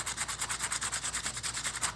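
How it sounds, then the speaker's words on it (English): Coarse sandpaper rubs by hand over JB Weld KwikWood putty on a wooden tray, a quick, even back-and-forth scratching rhythm of about nine strokes per second, close and steady with no talk. "Once I get these big chunks off, then we'll switch to the finer sandpaper."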